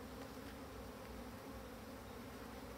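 Black honey bees drone in a dense, continuous buzz close around an opened Dadant hive.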